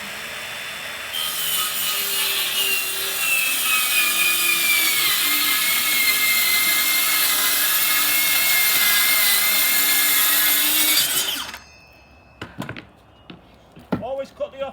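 A power saw cuts through a kitchen unit panel with a loud, continuous high whine lasting about ten seconds, its pitch dipping slightly as it bites, then winding down into a few knocks and handling noises.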